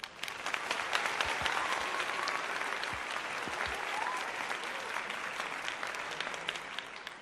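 Steady, dense applause from a group cheering for Natasha during a morning circle gathering, sustained and fairly loud for several seconds with no talking over it.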